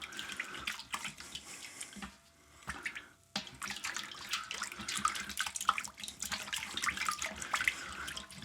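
Dry malt extract stirred into wort for a Coopers stout extract brew, making a steady close swishing and sloshing of liquid that continues throughout at a moderate level.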